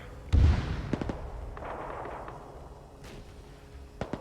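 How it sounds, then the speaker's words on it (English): Rocket-propelled grenades launching in a military video game set in Afghanistan, a heavy thump followed by sharp reports and scattered distant gunfire, with a sustained rumbling wash trailing off. "Now we're hearing RPGs launching as well"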